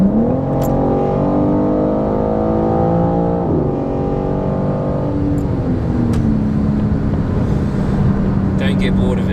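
A BMW M4 Competition's aftermarket exhaust rumbles loudly as the engine revs, its pitch rising and dropping, with wind buffeting in the background.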